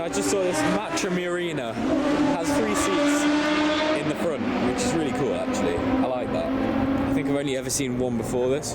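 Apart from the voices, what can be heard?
race cars racing at the Le Mans Classic circuit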